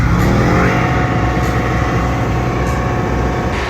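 A 1956 Chevy with a carbureted LS motor revs hard at LS Fest West, a loud, close, sustained engine roar that holds high for nearly four seconds.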